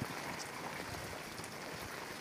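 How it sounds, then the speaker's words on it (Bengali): Steady rain pours down on a flooded lane between two village houses, a dense, even hiss of drops on water and surfaces that continues throughout without any speech. "এখন বৃষ্টি হচ্ছে আবার"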